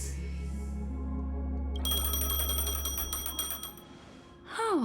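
A phone rings in Honkai: Star Rail after a low hum, its bright repeating trill chiming steadily for about two seconds over a sustained background drone before a rising tone sweeps in at the end.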